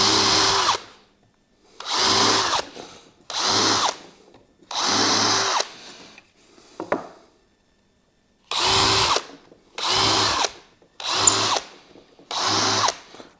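A power drill clearing out holes in a wooden frame runs in repeated bursts, about eight loud whirring pulses with short pauses between, close by and alone.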